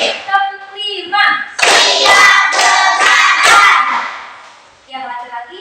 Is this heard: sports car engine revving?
no